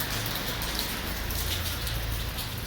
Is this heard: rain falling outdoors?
yes